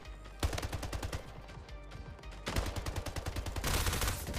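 Rapid bursts of video game gunfire, with dense automatic shots in quick runs and a short lull midway before heavier firing resumes, loud and close.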